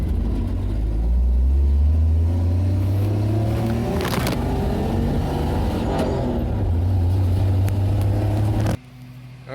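A 1962 Chevrolet Bel Air idles and revs close by with a steady low engine rumble, swelling in pitch as it drives around back, then cutting off near the end.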